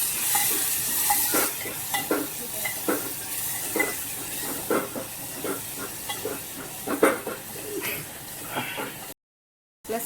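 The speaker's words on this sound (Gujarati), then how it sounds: "ડુંગળી બ્રાઉન કલરની થઈ ગઈ છે, હવે એમાં એડ કરું છું ટામેટા।" Chopped tomatoes hit browned onions in a hot pan, giving a continuous sizzle broken by regular scraping strokes from stirring, close and fairly loud, with a brief cut to silence near the end.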